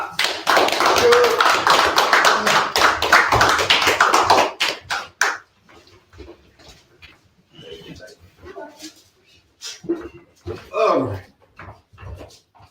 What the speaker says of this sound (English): Let's stand to our feet and give a hand clap for Minister Omari Jahi